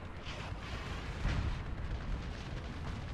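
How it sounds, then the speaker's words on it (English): A tank in a Soviet armor video game blows apart after a high-explosive shell strikes it, a heavy booming blast with a rumbling, crackling tail that fills the short moment without any voices. "If you hit them there with HE, they just for some reason explode."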